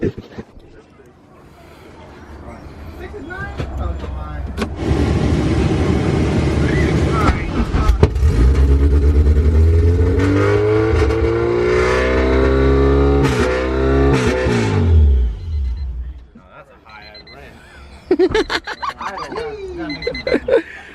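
A K24-swapped Honda Civic wagon cranks, catches and fires up, rising into a loud, rough idle with revs for several seconds before cutting out, followed by a few short bursts, with voices talking nearby.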